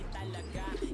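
A racing pigeon coos briefly at a loft as the first bird returns from a race, close by, with some outdoor noise and voices underneath.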